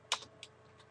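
A computer keyboard is tapped while a command is entered in AutoCAD. A few quick, light keystrokes sound close by and fairly faint.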